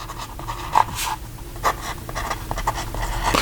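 Wing Sung 698 fountain pen with a fine steel nib writing in a paper notebook, close scratchy strokes with small taps and scrapes in quick succession over a faint room hum.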